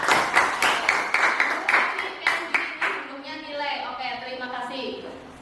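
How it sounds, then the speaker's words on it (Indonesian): Classroom applause for a student, a quick burst of clapping from many hands that rings loud for about three seconds, then gives way to children's chatter and voices. "Kita kasih aplaus untuk Farhan ya."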